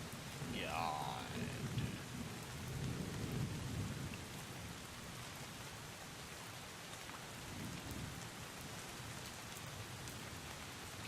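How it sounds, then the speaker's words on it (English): Steady rain pours in the video game Drizzlepath, a broad continuous hiss, while rolling thunder rumbles loudly over the first few seconds and again more faintly later. "Get out of this fucking rain."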